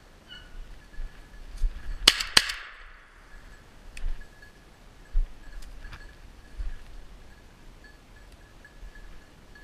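A gunshot fired through brush during a December snowshoe hare hunt: two sharp, loud cracks close together near the start, with a few fainter knocks and rustles afterward in a quiet outdoor setting.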